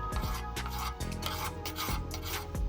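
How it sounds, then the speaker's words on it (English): A whetstone rubs back and forth along a lawnmower blade in quick, close, rhythmic strokes, a loud gritty scraping with no voices. "And now a little bit of whetstone"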